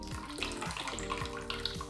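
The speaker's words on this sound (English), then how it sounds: "get ready to strain it out into a nicely chilled Nick and Nora glass" Cocktail poured through a Hawthorne strainer into a chilled Nick and Nora glass, a continuous close liquid stream with light splashing for about two seconds, no talk.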